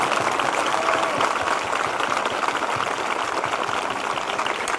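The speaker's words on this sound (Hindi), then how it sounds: "जिनके हो चुके हैं वो जोरदार ताली बजाकर धन्यवाद दें" A church congregation claps loudly in thanks during a live morning prayer service, a dense continuous roar of many hands.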